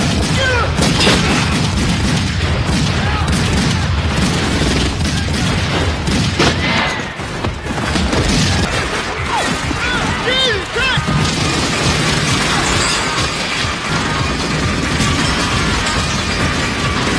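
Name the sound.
gunfire shootout in a film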